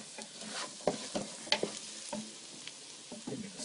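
A flour roux for seafood chowder cooks in a pan with a soft sizzle, broken by irregular scrapes and taps of stirring, close and fairly quiet.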